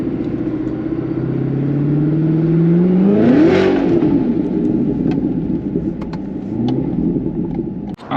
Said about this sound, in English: this is a 2018 Corvette ZO6. So that is the supercharged model for the C7